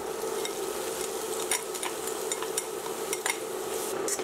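Minced onion sizzles in melted butter in a hot pan with a steady frying hiss, broken by light scraping and stirring clicks of a utensil against the pan.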